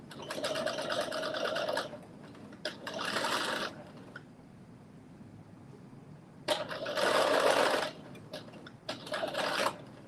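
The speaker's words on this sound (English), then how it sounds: "we're going to do a basting stitch" A home sewing machine runs a basting stitch in several bursts of fast, whirring mechanical chatter, separated by pauses with quieter handling noise, close and moderately loud.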